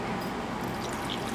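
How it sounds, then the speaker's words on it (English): Adobo sauce is poured over canned chicken in a Ziploc bag, a short, soft wet trickle and splash close up. "pour it into the bag here"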